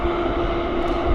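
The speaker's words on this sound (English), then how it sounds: "These are noisy aircraft." A noisy aircraft at Vancouver Airport, a brief steady engine roar with a strong droning hum, loud and continuous, nothing else over it.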